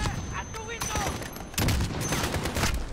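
Dense gunfire from Call of Duty Modern Warfare campaign play, with overlapping bursts of rifle and machine-gun shots and heavier booms around the middle, loud and continuous throughout, with a voice speaking faintly over the combat.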